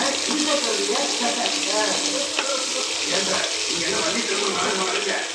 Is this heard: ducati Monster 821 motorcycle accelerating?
no